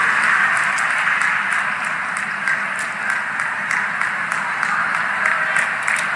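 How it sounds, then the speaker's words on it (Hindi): Loud, sustained applause from a large crowd at a government event in Bilaspur with Prime Minister Narendra Modi, as mementos are presented; a continuous, dense roar of clapping at constant intensity. "शुभकामनाएं आप सबकी तरफ से आनी चाहिए करतल ध्वनि के रूप में, तालियों के रूप में"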